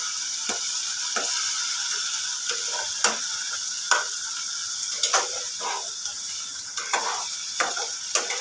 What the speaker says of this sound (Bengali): এবার ভালো করে নেড়ে নেড়ে কষাবো, মাছটা আর মশলাটা দিয়ে ভালো করে কষাবো।